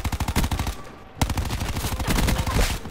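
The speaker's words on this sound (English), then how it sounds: "when it comes to an overall consistent as well as good submachine gun, the MX9 is exactly that" MX9 submachine gun firing in the video game Black Ops 4, rapid close bursts of evenly spaced shots with a brief pause near the middle, then sustained automatic fire to the end, with no talk.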